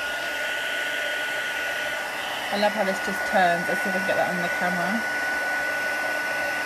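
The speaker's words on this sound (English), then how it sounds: "So we've got heat gun." Electric heat gun blowing hot air for embossing, a steady, close, loud whooshing hum that runs throughout while a person talks briefly over it.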